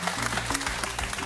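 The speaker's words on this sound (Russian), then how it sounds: "Аплодисментами встречаем моего младшенького." Studio audience applause on a Russian television matchmaking show, dense clapping running steadily over a musical backing throughout.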